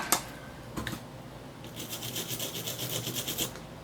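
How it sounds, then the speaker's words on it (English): Scraping away burnt residue during a flex cable install in a GBA console mod, a brief sharp scratch followed by a steady run of quick, close rasping strokes. "Burn some of it off there. Just scrape it."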